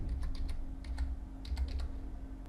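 Typing on a computer keyboard, a run of light, irregular key clicks over a steady low hum, with no one speaking.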